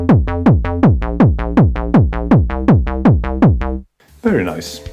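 A Korg Volca bass line plays a steady, pulsing 90s happy hardcore pattern together with a punchy kick drum, loud and close. It stops abruptly near the end, and a voice starts speaking.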